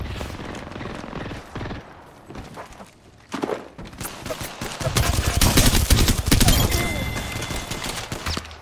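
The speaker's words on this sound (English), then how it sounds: "Who's shooting me?" Gunfire in Apex Legends starts with scattered shots and footsteps, then grows into a dense, loud stretch of rapid fire and impacts over the second half.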